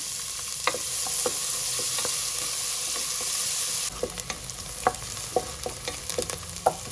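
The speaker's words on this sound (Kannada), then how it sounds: "ಈರುಳ್ಳಿ ಹಾಕಿ ಫ್ರೈ ಮಾಡ್ತಾ ಇದ್ದೀನಿ" Steady sizzle of onions frying in oil in a pressure cooker fills the background while a utensil clinks and scrapes against the pot every so often, with no talking.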